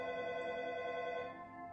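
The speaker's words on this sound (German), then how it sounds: "Telefon." Telephone ringing in the 1980s-set video game American Theft 80s, a sustained electronic ringing tone held steadily and fading slightly near the end, heard alone without voices.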